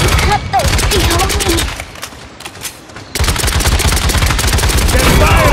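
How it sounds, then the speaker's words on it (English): Rapid gunfire bursts from the online shooter game Paladins at a training shooting range, loud and continuous with a brief lull in the middle, mixed with voiced game callouts. "They're firing on me."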